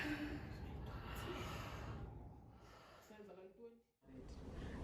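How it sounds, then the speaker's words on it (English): Loud breathing in and out during a voice movement therapy session in the Eastern Cape, South Africa, with long airy breaths, a brief voiced sigh near the end, and a short pause before the breathing resumes. "Then you breathe in and out."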